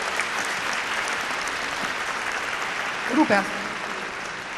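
An audience applauds steadily at a Romanian chamber music event for children after a recited poem, with a brief spoken phrase breaking through near the end.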